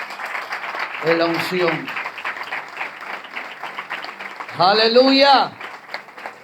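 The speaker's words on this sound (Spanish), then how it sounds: "Den un fuerte aplauso al Señor." Church congregation applauding in a Spanish-language worship service, a steady wash of clapping that runs under two short spoken exclamations from a man.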